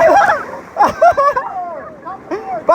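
Raft paddles splash and slap river water on the Deschutes River in quick irregular strokes, close and loud, with excited shouting voices over the rafting.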